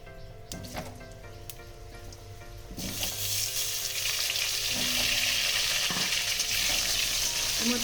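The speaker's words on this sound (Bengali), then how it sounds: "আলু আর এই গাঠি কচু এবার এটাকে আমি তেলের পরে ভেজে নেব" Pieces of potato and taro frying in hot oil in a pan, a few faint clicks and stirs at first, then a loud steady sizzle that swells and holds close up.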